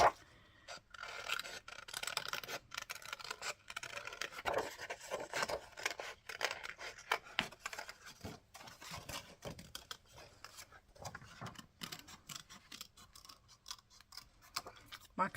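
Scissors snipping paper into circles for a journal, heard as quiet, irregular close-up cutting and rustling clicks scattered across the whole stretch, with no talking.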